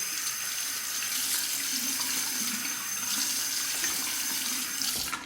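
Tap water runs steadily into a sink while someone rinses their face after a wet shave, a continuous close splashing rush that holds even throughout.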